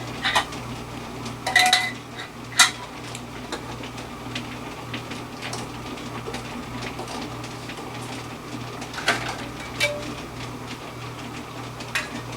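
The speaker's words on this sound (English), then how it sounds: "Let's reach in and get our lids out of the boiling water." Metal canning lids are lifted with a magnet from a pot of boiling water on a kitchen stove, giving scattered light clinks and taps over a steady low hum.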